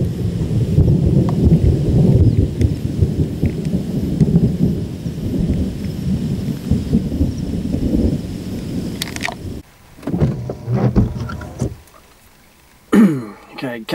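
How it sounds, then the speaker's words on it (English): A storm rolls in over wetlands, with deep rumbling thunder and rain that build loud and dense for about nine seconds, then break into gusty bursts and a brief lull before a final sharp crack. "Here comes the rain."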